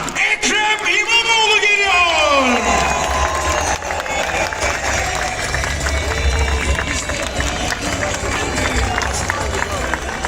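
Large outdoor rally crowd in Rize Çayeli applauding and cheering in a dense, continuous roar, with an amplified voice over a PA system at the start before the noise swells and holds steady.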